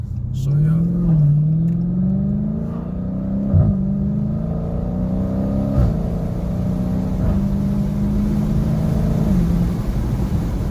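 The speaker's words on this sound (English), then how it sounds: "And it's factory exhaust, going crazy with it." A Dodge Challenger Scat Pack with its factory exhaust revs repeatedly from inside the car, a loud deep engine note rising and falling over several throttle blips, with a quick sharp pull around the middle.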